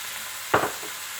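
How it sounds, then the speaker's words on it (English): Onion goes into a pan of frying garlic with a short burst of sizzle and a quick scrape of stirring, then only a faint background hiss remains. "After the garlic, you're going to be putting in the onion."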